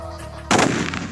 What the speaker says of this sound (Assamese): এতিয়া মানে সি লগাই দিলে বোমাটো